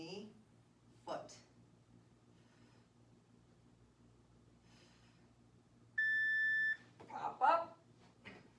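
A workout interval timer gives one sustained electronic beep lasting under a second, clear and steady, set between stretches of spoken instruction and quiet room noise.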